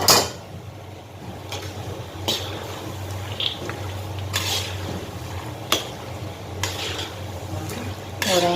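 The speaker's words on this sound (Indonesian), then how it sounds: "Sekarang teman-teman kita goreng kacangnya ya" Peanuts fry in a pan with a soft, steady sizzle, punctuated by several clinks and scrapes of a utensil against the pan at irregular intervals.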